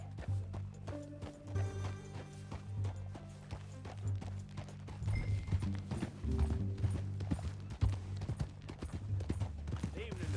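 Horseback riding in the Red Dead Redemption 2 video game brings a run of clip-clopping hoofbeats under game music and voices, with occasional louder thumps and clatter.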